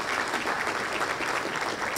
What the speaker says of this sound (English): Could you give yourselves and the Chamber a big round of applause?